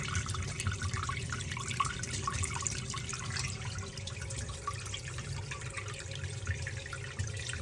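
Water leaking near a drain trickles and drips steadily, a continuous wet hiss with faint scattered drip taps, moderately quiet and without any voices.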